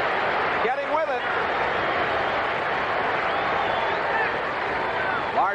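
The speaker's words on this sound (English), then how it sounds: "This crowd getting with it." A stadium crowd roaring steadily during a 1981 NFL game between the Pittsburgh Steelers and Seattle Seahawks in Seattle, a loud continuous wash of cheering, with commentary voices over it.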